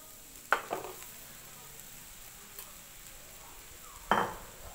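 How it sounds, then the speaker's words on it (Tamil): Cooked rice is mixed into egg fried rice in a pan, with a few sharp spatula scrapes and clinks against the metal over a faint, low sizzle, quiet and sparse. "இப்போ இதில் சாப்பாட்டை கலந்துக்கலாம்"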